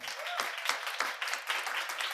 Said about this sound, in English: One final time, great round of applause for Veeti, Karen, Laura, Miko, Valtteri, Eri